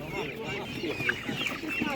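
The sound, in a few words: hens clucking at a market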